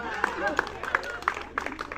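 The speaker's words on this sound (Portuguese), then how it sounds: "Aí, palmas pra ela." Children in a preschool class give a few sharp, evenly spaced claps for a girl after a game, with voices chattering around them in a room.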